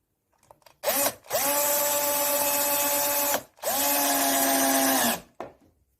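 A power drill drives screws into a metal bracket on an old wooden dresser being refinished, heard as two sustained whirring runs of about two and three seconds each, close and loud, with no talk over them.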